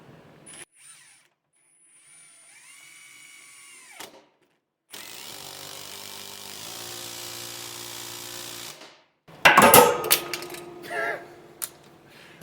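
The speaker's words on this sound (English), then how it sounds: "And now for the triple hammer." A Metabo HPT 18V triple hammer impact driver runs in loud, rough bursts, followed by a quieter steady whir and a few clicks beforehand.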